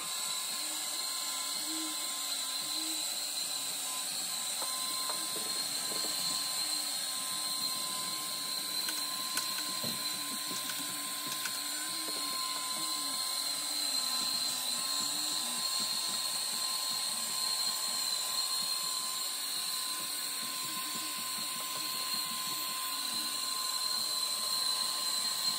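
A Hobot 388 window cleaning robot runs steadily on a window glass pane with its ultrasonic sprayer switched off, giving a continuous whirring motor drone with faint mechanical ticks throughout, close and with no talk.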